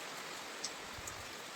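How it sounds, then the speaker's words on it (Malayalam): Heavy rain in a hilly village, a steady wash of downpour hiss with no talk and a couple of small drip-like ticks over it. "ഇതിപ്പോൾ ഭയങ്കരപ്പെട്ട മഴ വരുന്നത്"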